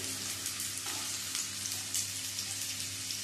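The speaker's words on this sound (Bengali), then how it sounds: "লবণ আর হলুদ দিয়ে আলুটা ভেজে নেব" Diced medium potatoes fry in hot oil in a pan, giving a constant bright sizzle with faint crackles and no talk.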